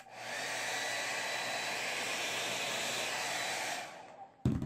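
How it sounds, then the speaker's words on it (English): A hair dryer blows hot air steadily over shrink-wrap tubing on a battery being rewrapped, a loud, even roar for about four seconds before it cuts off with a brief knock. "just keep running the hairdryer over it"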